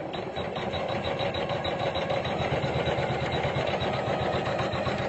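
A Usha Janome Memory Craft 550-E computerized sewing machine embroidering a leaf design, its needle running in a steady, fast mechanical chatter with a constant motor hum, close and even throughout.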